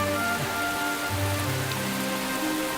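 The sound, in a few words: rain falling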